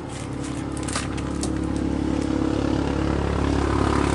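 A loud unmuffled vehicle engine roars steadily and close, building slightly in loudness as it passes or revs, a coarse low rumble running with no voices.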